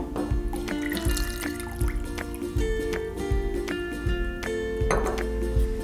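Water pours from a bottle into a glass container for a floating-candle decoration, with a continuous trickle broken by irregular drips and light glassy clinks close up.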